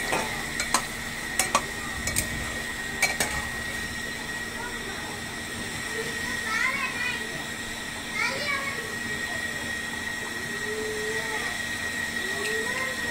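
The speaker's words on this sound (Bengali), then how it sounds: "ও এটা আমি কিছুক্ষণ কষিয়ে নেবো আলুর সঙ্গে।" Beef tripe and potatoes sauté in a pot with a steady low sizzle and occasional scraping stirs, faint children's voices in the background.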